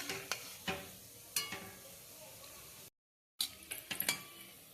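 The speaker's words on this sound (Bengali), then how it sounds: "ফুরুলি ভাজা চলছে" Palm fruit fritters deep fry quietly in oil. Soft crackling sits under intermittent clinks and taps of a spoon against the pan, with a brief silent gap near the end.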